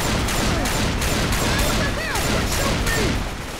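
Left 4 Dead gunfire rattles out in rapid, near-continuous volleys of loud, close shots, with scattered game sounds and voices underneath.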